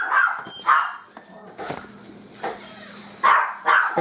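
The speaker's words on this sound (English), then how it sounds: "That was my dog." A small Maltese dog barks in a home kitchen, about six sharp, high yips spaced irregularly and close by, with quiet room noise between them.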